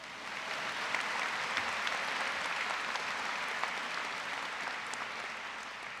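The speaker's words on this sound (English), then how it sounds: "Please applause." Steady applause from a large audience at a medical school diploma ceremony fills the whole stretch, dense and even with no voices standing out.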